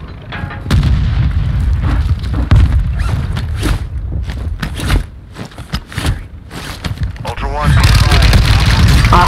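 Grenade blasts and gunfire crack through a multiplayer shooter match, sharp booms repeating amid scraping footsteps while players talk over the action.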